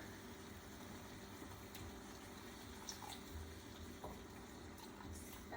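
Hot water pours into a pot of Jamaican curry chicken, a soft, faint, continuous trickle with a few small splashes and drips near the end.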